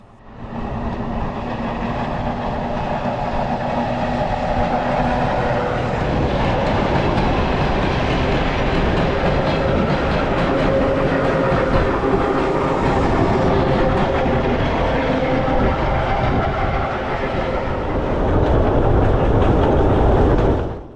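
Train riding along an industrial railway line in Kazakhstan: a loud, continuous rumble with rhythmic clickety-clack of wheels over rail joints, steady throughout and swelling near the end.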